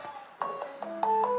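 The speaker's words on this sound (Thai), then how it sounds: "ถึงแม้เครื่องนี้จะตั้งว่าปิดเสียง แต่ว่าถ้าเกิดส่งให้แบบว่า ให้หา มือถือแต่เชื่อมเชื่อมบลูทูธอยู่ เครื่องนี้ก็จะดังได้นะครับ" A Samsung Galaxy Gear smartwatch rings for an incoming call, playing a short stepped melody of clear electronic tones, about five notes rising in pitch over a second and a half, nearby and alone.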